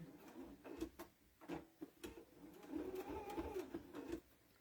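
A sewing machine runs in short bursts and one longer steady stretch as it stitches around the edge of a small fabric Easter egg silverware holder, fairly quiet and close, with a few knocks between runs.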